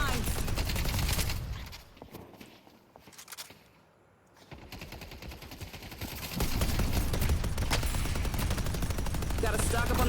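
Automated turret in a video game firing dense bursts of gunfire, loud at the start, easing off mid-clip, then returning to sustained rapid fire, with a voice talking over parts of it.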